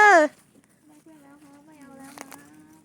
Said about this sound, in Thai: มาเบิ่งควายงามเด้อยายเด้อ